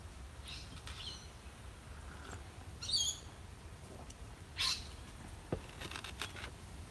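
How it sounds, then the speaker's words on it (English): Morning birdsong in Australia: scattered chirps and short calls come from several directions against a quiet outdoor background, with a couple of louder bursts standing out and no voices. "Very peaceful listening to the birds in the morning."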